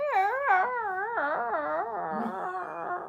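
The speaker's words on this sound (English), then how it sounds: "Them dogs was loud." Several dogs cry out loudly in long, wavering howls and whines that rise and fall together without a break, close by with no talking.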